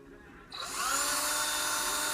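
A cordless drill with a weak, low battery bores a hole, starting up after a brief pause and then running steadily and loudly with a rising whine as it cuts.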